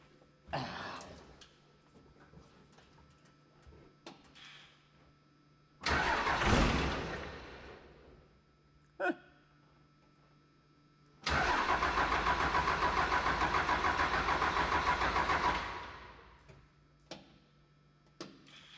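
Diesel Cummins engine in a Mack A40 truck cranking from the seat: short bursts of starter grind and a brief catch, then a loud sustained run with steady rapid ticking and rumble lasting several seconds before cutting off.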